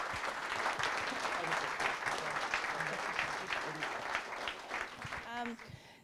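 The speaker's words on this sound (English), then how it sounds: "So give them a round of applause." Audience at an augmented reality meetup applauds the panel speakers, sustained dense clapping from a roomful of people with a voice talking faintly underneath, tapering off near the end.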